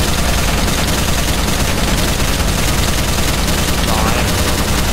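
Dense, continuous automatic gunfire from a video game fills the stretch as the final magazine is emptied, loud and unbroken throughout, with a voice talking over it.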